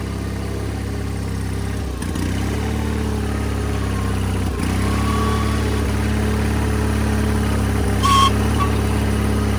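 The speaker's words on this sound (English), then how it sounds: "Let's engage the PTO for the hydraulic pump, like so" A 1996 Wheel Horse 520 lawn tractor engine runs steadily at a constant idle-like drone while powering a hydraulic pump through the PTO, with a faint mechanical whine and a brief rattle near the end.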